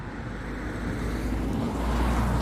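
Road traffic near a small roundabout makes a continuous low roar of cars, swelling slightly as a vehicle draws closer, with no voices over it.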